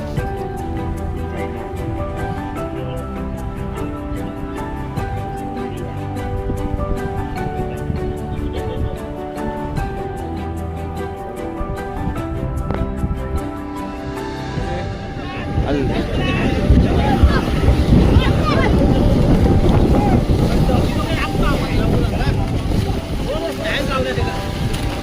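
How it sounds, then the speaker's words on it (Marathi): A fishing boat heads out to sea at a traditional Rapan fishing festival, its engine droning steadily while wind buffets the microphone and waves wash loudly near the hull. "आणि आता होडी आता समुद्रात आलेली आहे"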